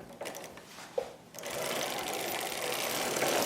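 A hand-cranked circular sock knitting machine knits a sock with a rapid mechanical clatter. It starts quieter and with a few clicks, then settles into a steady, dense rattling as the cranking continues, close by.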